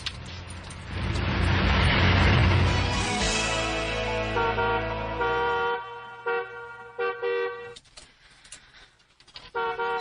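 A car horn honks in a dramatized Filipino scene, starting as one long loud blast and breaking into shorter, choppier toots toward the end.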